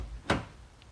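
A Volkswagen Tiguan car door opens with a single short, soft latch click in a quiet setting, followed by near silence.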